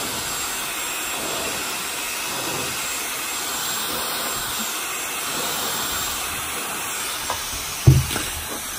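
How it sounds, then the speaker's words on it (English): A Dyson Supersonic hair dryer blows with a steady, airy hiss throughout, close and continuous, with a brief knock near the end. "Hold your hair dryer down."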